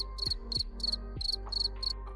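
Crickets chirp in quick, regular pulses, each a shrill trill repeating about twice a second, clear and close over a low steady hum.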